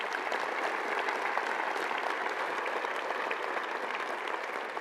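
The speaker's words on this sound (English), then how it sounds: "How about another round of applause for him?" Steady applause from a commencement audience at the University of North Dakota School of Law, a continuous even patter of many hands clapping throughout, moderately distant and without talk.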